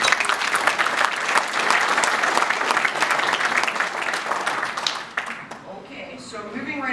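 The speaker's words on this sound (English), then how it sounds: "So they definitely deserve another round of applause for the team." An audience at a show claps loudly in dense, sustained applause that tapers off toward the end, where a voice begins talking.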